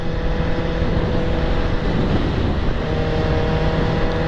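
Superbike engine riding on a highway, a steady loud drone with dense wind rush, close and continuous throughout without speech.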